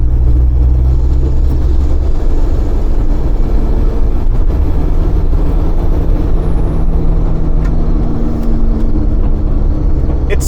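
A VW T3 van with a TDi engine, fitted with a new fuel pump after a cylinder head swap and piston repair, pulls along a main road in third gear with a steady, loud, low droning engine note throughout.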